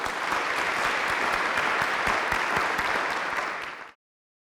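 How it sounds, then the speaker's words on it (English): An audience at a city and county employee MLK observance applauds a keynote speaker with full, steady clapping that holds for several seconds, then cuts off abruptly into silence. "Please give a round of applause for Judge Morey."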